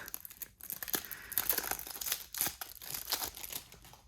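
Paper wrapping on a gift package holding a card game crinkles and tears open in quick, uneven bursts, close and fairly quiet, with no one speaking.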